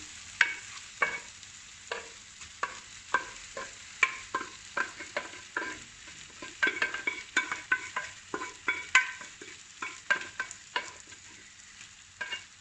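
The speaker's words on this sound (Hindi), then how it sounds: "अब हम इसमें डालेंगे ग्राइंड किया हुआ पालक।" Ground spinach being stirred into masala-coated chickpeas in a hot pan, giving a steady low sizzle broken by repeated scraping stirs of a spoon, close and moderately loud with no talking.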